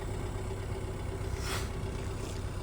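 An Audi Q3 with an exhaust pressure control valve fault idles just after start-up, giving a steady, even engine drone with a low hum and no talk.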